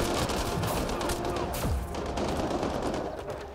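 Sustained gunfire in the sci-fi shooter game Mass Effect: Andromeda, a dense, steady stream of rapid shots filling the whole stretch at close, even loudness with no talking.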